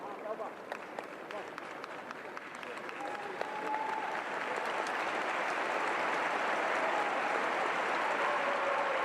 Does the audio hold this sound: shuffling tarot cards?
no